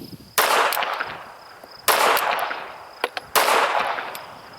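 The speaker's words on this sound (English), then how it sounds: "Gonna fire a few more" Three loud, close pistol shots from an S&W Bodyguard .380 at a range, each a sharp crack followed by a decaying echo, spaced about a second and a half apart with small clicks between the second and third.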